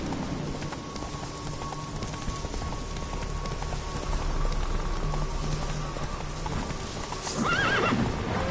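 Roach, the horse in The Witcher 3, gallops with steady clip-clopping hooves over a bed of falling rain, and a whinny rises near the end; no one speaks.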